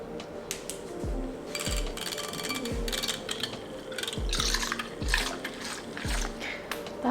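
Water is poured into a shaker of protein powder, two scoops, with repeated short splashing pours and knocks, followed by quick rattling shakes of the mix, heard close up without talk.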